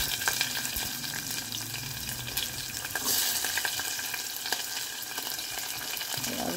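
Onions and green chillies fry in oil with cumin, cloves and cinnamon, giving a steady close sizzle with occasional stirring scrapes throughout, no voices.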